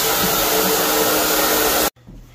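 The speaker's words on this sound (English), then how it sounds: "sanded that down and sucked all the dust up" A vacuum roars loudly and steadily while sucking up floor-sanding dust, then cuts off abruptly, leaving a faint low hum.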